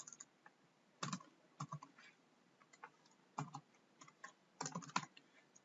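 Computer keyboard typing in short irregular bursts of clicks with pauses between, fairly quiet and close, no voices.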